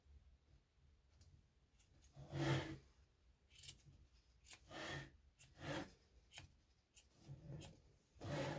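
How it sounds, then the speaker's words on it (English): Scissors trim punch needle yarn loops with a series of quiet, close snips and soft rustles, about eight or nine irregular cuts spread over several seconds, with no talking. "I can tell I want to cut a bit more here"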